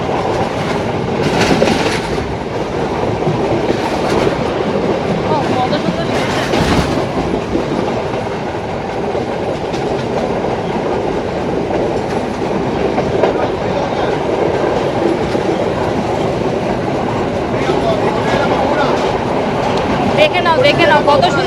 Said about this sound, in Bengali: মারাত্মক স্পিডে কিন্তু আমাদের ট্রেনটা ঘুরছে।